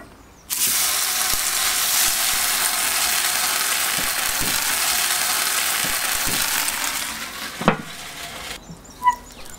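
Food sizzles on a lidded outdoor griddle in a steady broadband hiss that runs almost the whole time, then cuts off near the end, followed by a couple of sharp clunks.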